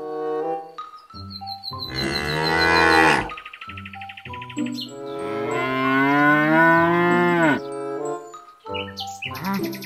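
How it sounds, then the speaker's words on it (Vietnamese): Several long, loud moos from a dairy cow in a cartoon setting, with brief chirpy bird-like sounds between the calls and at the end. "Thì ra nó là một con bò sữa các bạn."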